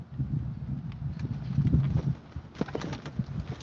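Horse hooves clop in a steady walking rhythm, close by, with a low cooing bird sound underneath and louder hoof strikes toward the end.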